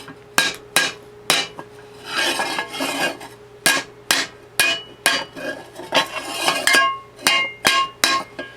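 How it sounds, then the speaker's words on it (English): Sharp metallic hammer strikes on a rusty metal rim of a 1970 Honda Z50 ring out one after another at an uneven pace, close up, with scraping and rattling between blows. "Let's see if maybe I can hammer those down a little bit."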